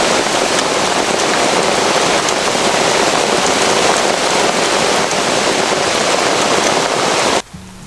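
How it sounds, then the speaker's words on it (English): Heavy rain falling outdoors on an autumn day, a dense steady loud hiss of drops pattering on surfaces, cutting off abruptly near the end. "that's the end of this rain"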